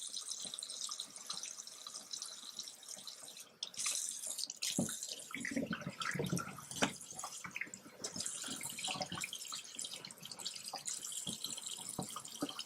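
Tap water runs steadily over raw pork being rinsed in a sink, a continuous splashing flow that shifts in tone as the meat moves under the stream.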